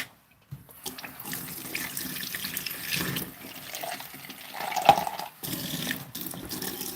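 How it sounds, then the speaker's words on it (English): Water poured from a tap into a bowl of creamy yogurt being loosened for homemade baby food, a steady running splash lasting several seconds with a brief louder burst partway through. "I just added a bit of water."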